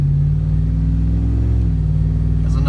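A truck fitted with an 18-inch stainless steel muffler idles and revs in a deep, steady low rumble, close and loud throughout with a slight swell before settling.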